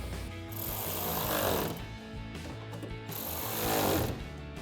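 An 8mm socket on a power driver tightening the screws of black rear wheel well guards on a 2019-2023 RAM 1500, a loud buzzing whir that rises and falls in two drawn-out bursts.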